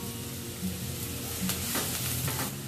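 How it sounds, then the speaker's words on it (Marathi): Chopped onion frying in hot oil for a shark fish masala curry, giving a steady close sizzle with soft stirring scrapes throughout and no voices. "जो अख्खा मोठा कांदा घेतला होता तो मी असा बारीक चिरून घेतलाय, तो मी आता या तेलामध्ये टाकून फ्राय करून घेते"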